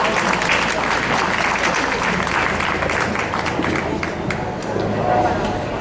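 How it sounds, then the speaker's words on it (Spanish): An audience at a public tribute event breaks into loud, sustained applause, dense clapping filling the whole stretch with crowd murmur mixed in. "Un fuerte aplauso."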